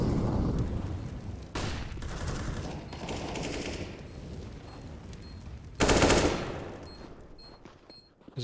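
Rapid automatic gunfire from a competitive bomb-mode shooter video game, with sharp loud bursts around a quieter stretch of scattered shots and a final strong volley fading to faint sound.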